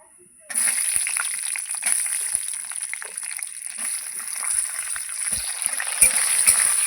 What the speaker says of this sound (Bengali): আলুটা কিন্তু এবার লাল লাল করে আমি ভেজে নেব একটু লবণ দিয়ে দেবো এই আলুটা ভাজবো